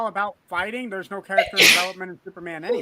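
A single sneeze bursts out in the middle of lively podcast chatter about Comic-Con and Superman, a sharp noisy blast between stretches of close conversation.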